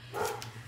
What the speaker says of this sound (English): I'm sorry if you hear the dogs barking.